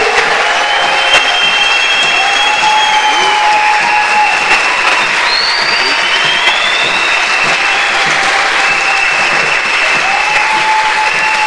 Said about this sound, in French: Let's clap for the Lord again.